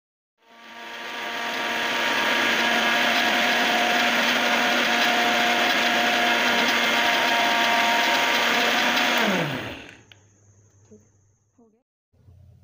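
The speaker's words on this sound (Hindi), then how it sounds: "अब इन सारे मसालों को हम ग्राइंड कर लेंगे।" An electric grinder spins whole spices for chaat masala, rising quickly to a loud, steady whirring roar that holds for several seconds before the motor winds down and stops, leaving faint rattles.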